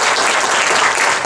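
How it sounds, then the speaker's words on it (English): Audience applause fills a room at a Mobile Monday Silicon Valley tech meetup, a steady, dense wash of many hands clapping at once, loud and close, lasting about a second with no voices over it. "Give Ross a hand of applause."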